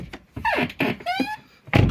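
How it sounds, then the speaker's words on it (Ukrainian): A Volkswagen Golf 5 car door opens and shuts with a few solid thunks and rattles, close by, with a brief squeaky creak between them. "Допустимо, ми відкрили двері,"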